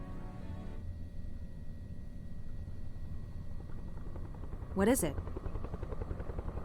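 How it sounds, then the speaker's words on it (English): A helicopter from the video game Alpha Polaris drones low and steady throughout, with a brief louder swell near the end as it approaches, while a voice speaks over it. "Sounds like a chopper."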